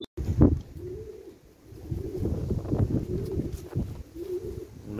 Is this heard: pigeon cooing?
yes